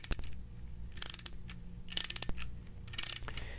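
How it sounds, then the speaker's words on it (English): A ratchet wrench clicks as it turns the cone of a Uniweld 70071 flaring tool, rolling a 45-degree flare; bursts of rapid ratchet clicks come roughly once a second, close and crisp, with no talking. "Continue ratcheting and advancing the flaring cone until the internal breakaway clutch disengages."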